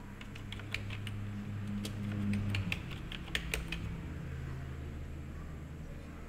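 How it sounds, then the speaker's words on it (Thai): Computer keyboard typing while a name is entered into a business registration form: a quick series of light, sharp key clicks, close and clear over a low steady hum, then stopping partway through. "พิมพ์ชื่อสกุลนะครับ"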